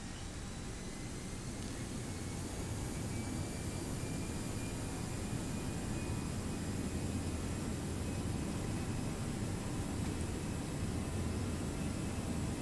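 Airbus A3xx jet engines spooling up to takeoff thrust in the Prepar3D flight simulator, a steady loud roar with a rising whine that builds gradually and holds, heard alone without talk.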